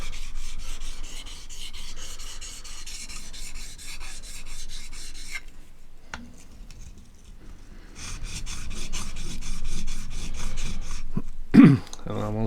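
A Helle Nord knife is sharpened freehand, the blade rasping steadily across the stone in long, gritty strokes close by, with a brief pause around the middle before the strokes resume, then a short knock near the end.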